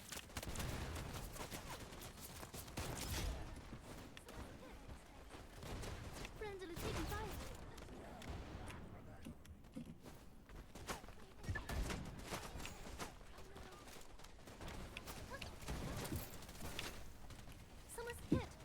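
Rapid bursts of gunfire from the video game Wild Assault, repeated volleys and sharp shots in clusters with thuds and mechanical clicks between them, heard at moderate level throughout the stretch.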